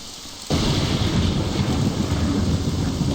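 A thunderstorm in the game Morrowind, where near-silence suddenly gives way to a loud, sustained crash of thunder and heavy rain that fills the rest of the moment, with no voices.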